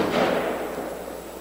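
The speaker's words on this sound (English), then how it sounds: "That literally just sounded like a gunshot just rang out of my neighborhood." A single sharp gunshot rings out at a distance in a residential neighborhood, followed by a fading echo that rolls across the surroundings.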